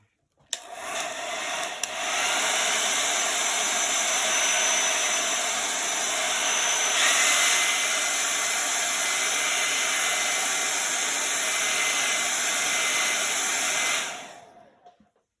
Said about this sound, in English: Blow dry again.